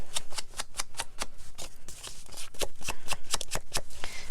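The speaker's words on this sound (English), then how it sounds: "I'm also going to take my sponge with the darker colour on, and I'm going to go all the way around my edges, just flicking them" A sponge loaded with darker ink is flicked repeatedly around the edges of a paper card, making a quick run of sharp brushing taps, close and fairly loud, with no voices.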